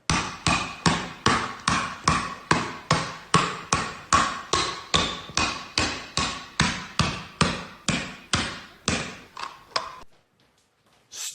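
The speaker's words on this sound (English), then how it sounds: "Stop the hammering." Steady, loud hammering with about two dozen evenly spaced heavy strikes, each ringing briefly, that continue for ten seconds and then stop.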